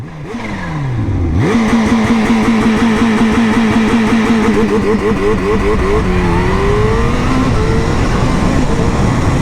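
A Kawasaki H2 motorcycle launches hard using launch control, its engine wailing up through rapid repeated gear changes in a loud, close, rising-and-dropping pattern with no talking.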